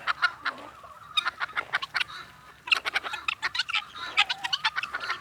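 Peafowl and chickens let out of their pen, filling the air with repeated clucks and squawks in busy, overlapping bursts, close and fairly loud, with no talk.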